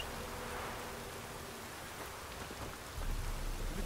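Steady rain falls in a dense, even hiss in the video game Witcher 3, with a low rumble swelling near the end.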